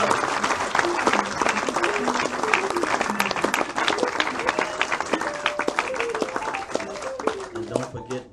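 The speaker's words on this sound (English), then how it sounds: "let's give a nice round of applause for the world's greatest," Audience applause at a live 1999 New York City jazz concert, loud and sustained with dense clapping and crowd noise while musical tones continue underneath.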